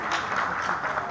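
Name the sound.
audience applause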